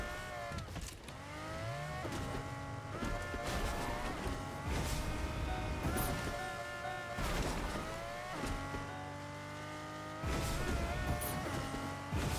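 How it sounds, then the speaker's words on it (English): A busted car low on gas drives in the video game Fortnite, engine revving up and dropping repeatedly through gear shifts, with tire squeals and bumps, close and loud without talk. "This car is very busted and running out of gas"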